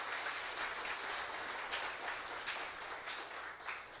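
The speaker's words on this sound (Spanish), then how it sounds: "Démosle un fuerte aplauso al Señor." A church congregation gives a strong round of applause during a sermon, steady dense clapping heard at a moderate distance with no talk over it.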